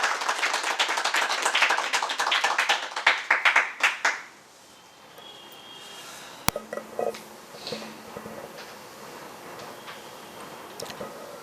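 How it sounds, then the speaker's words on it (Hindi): Audience at a seminar training session breaks into loud, dense clapping for a guest, sustained for about four seconds before dying away into a quiet room with a few faint taps and stray sounds. "एक बार जोरदार तालियां"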